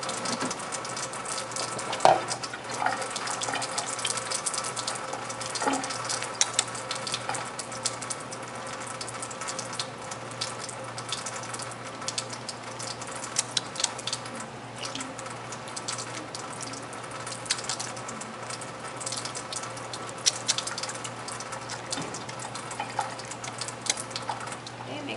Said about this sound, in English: first thing I'm always going to do before I start anything is wash my hands